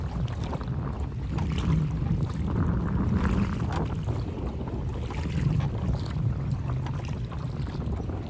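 Steady low rumble of a boat on the water, with wind buffeting the microphone throughout and no voices.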